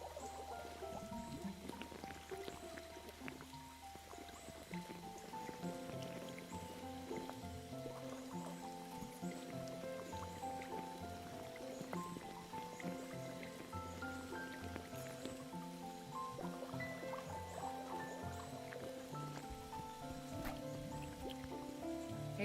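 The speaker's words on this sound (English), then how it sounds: "Hey Curry, doesn't the rain feel nice?" Steady rain patters and drips in the video game Chicory: A Colorful Tale, a soft continuous wash layered under gentle melodic game music with no one talking.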